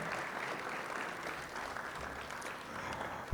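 A sports hall of fame ceremony audience in Rialto claps for Joe Baca Jr., a faint, distant, steady patter of many hands that holds evenly for the few seconds heard.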